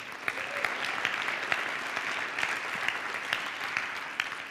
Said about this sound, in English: let's just give him a round of applause just for that